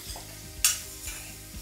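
Sliced onions stirring and frying in a little oil in a pan for a bitter gourd curry, with several soft scraping stirs and a brief louder sizzle burst midway, close and fairly quiet, no talking.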